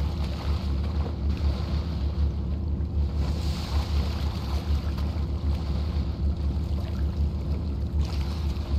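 Boat moving over open water in the video game GTA V, a steady wash of engine rumble, wind and churning spray holding constant throughout.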